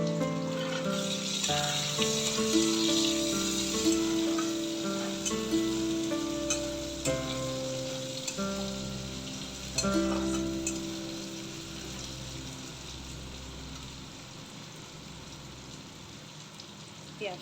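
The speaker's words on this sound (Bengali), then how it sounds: "পেঁয়াজটা একটু হালকাভাবে ভাজা হয়ে যাক" Chopped onions with black cumin (kalo jeera) fry in a pan for a Bengali bata fish curry, giving a soft, steady sizzle under background music with occasional clinks, fading slightly toward the end.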